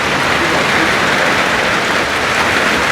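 Steady heavy rain pours down in a dense, continuous hiss, loud and close, with no clear break over the few seconds.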